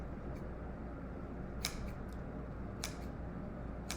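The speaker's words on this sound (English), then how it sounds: "So snip out all the loops." Scissors snip through yarn loops while a pom-pom is trimmed, a few faint, sharp cuts near the end, one isolated and a pair close together, over quiet room hiss.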